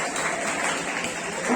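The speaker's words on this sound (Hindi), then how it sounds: "जोरदार ताली अनंतराय के लिए।" Short burst of steady applause from an audience at an Independence Day school event, clapping for a child, dense and continuous for under two seconds.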